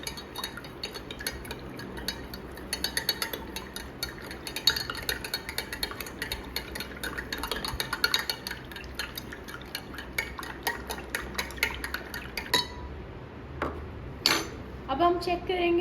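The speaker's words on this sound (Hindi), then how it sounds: "वन स्पून में इसमें शुगर ऐड करूँगी और हम इसकी स्टेरिंग करेंगे।" A metal spoon stirs sugar into water in a glass, giving steady clinking and scraping over a continuous background, with a few louder clinks near the end.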